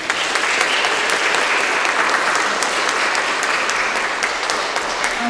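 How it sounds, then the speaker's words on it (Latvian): An audience at a school organ class concert claps for an organ student, with dense, loud and sustained applause filling the hall throughout. "Tātad vēlreiz aplausi Sandrai!"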